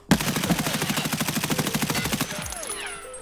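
An M4 rifle fires on full auto in Escape from Tarkov, a rapid even burst of about twenty loud close shots lasting two seconds, then a ringing tail of echoing decay.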